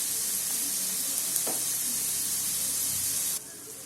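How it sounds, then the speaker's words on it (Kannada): Tomatoes with salt fry in a hot pan, giving off a loud, continuous sizzle with a brief stirring scrape partway through before the hiss drops off at the end. "ಈಗ 1 ಟೀ ಸ್ಪೂನಷ್ಟು 1 ಸ್ಪೂನು ಉಪ್ಪು ಹಾಕಿ ಇದನ್ನು ಫ್ರೈ ಮಾಡಿ"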